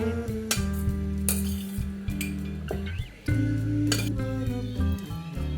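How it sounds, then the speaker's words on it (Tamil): Sautéed capsicum and carrot stirred into cooked rice in a metal vessel: a spoon clinks and scrapes against the pan in irregular, close bursts, with steady tonal background music underneath. "கேப்சிகம் கேரட் ரைஸ்க்கு நம்ம வதக்கினது எல்லாத்தையும் நம்ம இதில் சேர்த்துருவோம்"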